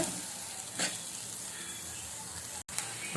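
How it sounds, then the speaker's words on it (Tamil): Steady, crackling sizzle of egg curry ingredients deep frying in hot oil, with a few brief bursts of stirring and a short dropout near the end. "இதை நல்லா ஃப்ரை பண்ணணும். டீப் ஃப்ரை பண்ணுற வரைக்கும் நல்லா பண்ணிக்கோங்க."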